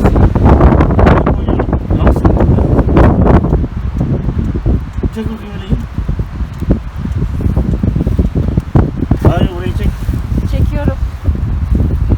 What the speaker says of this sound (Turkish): Ay çok esiyor.